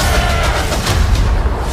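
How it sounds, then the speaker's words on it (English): Dense, continuous rumbling booms like cannon fire, loud and sustained with low thuds rolling over one another throughout. "Cannon!"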